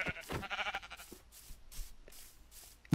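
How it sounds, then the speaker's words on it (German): Sheep bleat in the video game Minecraft, several short wavering calls in quick succession, close and fairly clear, with soft game noises between them. "Oh, da sind Schafe."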